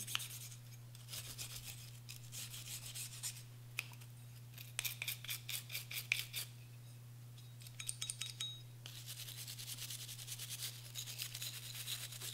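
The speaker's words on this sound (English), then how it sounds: "just take my nylon bristle brush and scrub that in" A nylon bristle brush scrubs lubricant into an AR-15 bolt part in several bursts of quick, raspy strokes, close and fairly quiet over a steady low hum.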